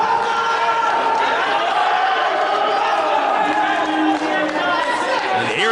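A pro wrestling crowd in Chicago at a 2010 Dragon Gate USA match keeps up a constant roar of shouts and chatter, with commentators talking over it throughout.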